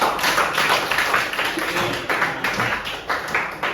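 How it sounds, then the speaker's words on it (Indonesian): A classroom of students claps for themselves, giving a dense, continuous patter of many hands at a steady level throughout. "kita tepuk tangan untuk diri kita sendiri"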